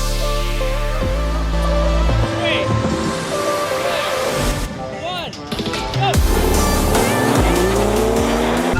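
A BMW M135i all-wheel drive launches in a wet-weather drag race against a BMW M140i, engine roaring and revving through gear changes with some tire noise, loud and close, with voices heard over it.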